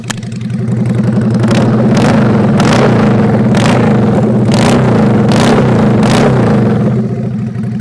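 A custom Sportster-style bobber motorcycle engine idles loudly with a deep, lumpy rumble, punctuated by about seven quick throttle blips that rev it up and drop back.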